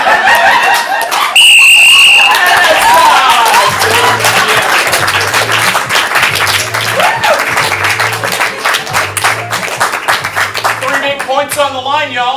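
Audience at a student stand-up comedy showcase applauding and cheering in a rough clapping burst with whistles, loud and close, while music with a repeating bass pattern plays and voices shout over it.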